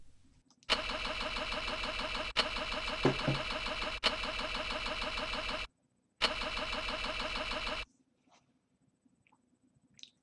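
A car engine in the Never7 video game cranks without catching: two long, loud, steady starter whirs, the second shorter after a brief pause, then near-silence with faint scattered ticks.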